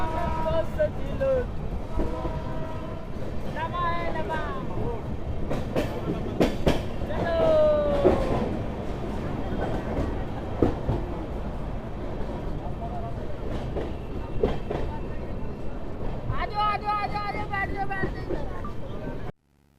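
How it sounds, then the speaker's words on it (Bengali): Rumbling train slowly entering Pakur railway station in Jharkhand, India, rolling along with clacks and metallic squeals, steady and close, while people talk throughout and voices rise over the noise; an LHB-coach passenger train. "ট্রেন ধীরে ধীরে ঢুকছে এখন পাকুড় রেলওয়ে স্টেশন"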